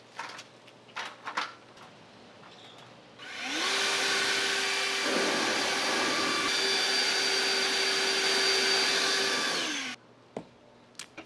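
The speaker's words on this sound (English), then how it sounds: "The Ego 56 volt battery blower." An Ego 56-volt battery leaf blower clears house gutters with a loud, steady whine and rush of air that starts abruptly, holds for about six seconds, then cuts off. Faint knocks and rustling come before and after.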